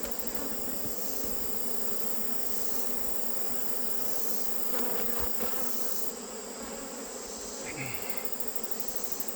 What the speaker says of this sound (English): Oh, look at all them bees.